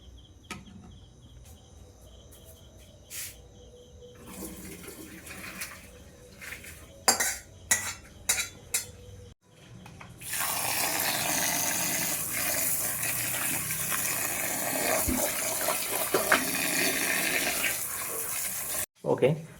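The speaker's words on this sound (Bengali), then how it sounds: "আমি ঠান্ডা জলে এটাকে ধুয়ে নিয়েছি যাতে এগুলো ছেড়ে ছেড়ে যায়" Boiled chow mein noodles being rinsed under cold running tap water: a steady, loud rush of water starts midway and continues to the end, after scattered clinks and clatters of dishes and utensils in a home kitchen.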